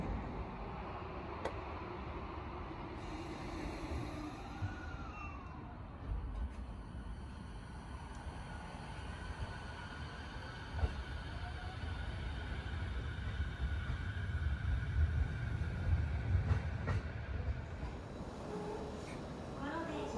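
A JR E233-5000 series rapid train departs Honda Station on the Sotobo Line. A faint, distant low rumble swells toward the end, under a platform announcement voice.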